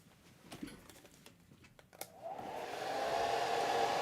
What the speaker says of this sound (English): I'm gonna just blow dry this slightly.